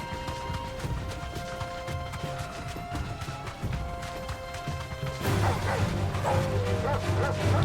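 Dog barking in the Final Fantasy XVI video game, loud repeated barks over game music and effects, with heavier crashing sounds building toward the end.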